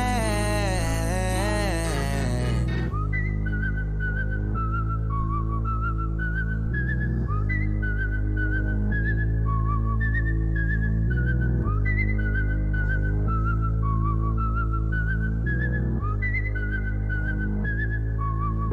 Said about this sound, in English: I wish I could whistle like that